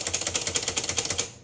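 Rapid, even keystrokes clatter from an Underwood 378 plastic-bodied portable typewriter, about a dozen close, crisp strikes in a steady rhythm that stop abruptly.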